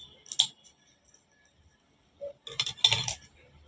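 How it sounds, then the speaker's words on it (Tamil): Kitchen scissors snip through garlic in two short, crisp clicking bursts, one near the start and a longer cluster later, separated by near silence. "முடிஞ்ச வரைக்கும் சிசரால் இந்த மாதிரி கட் பண்ணி விட்டுறணும்"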